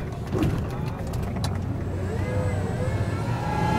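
An electric truck hums and rolls along close by, a steady motor drone with some rattling, tonal whine rising as it brakes and slows.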